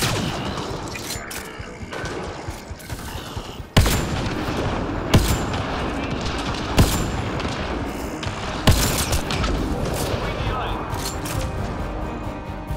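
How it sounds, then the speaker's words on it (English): Gunfire from a sniper duel in the video game Mass Effect Andromeda: several sharp, loud single shots spaced a few seconds apart over a constant bed of game noise and smaller clatter. "Alright, you want to do a sniper duel? We can do a sniper duel."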